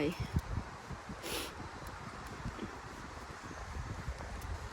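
Cold wind blowing through a Finnish forest during mushroom picking, heard as a low, steady rumble of gusts buffeting the microphone, faint and continuous with some rustling.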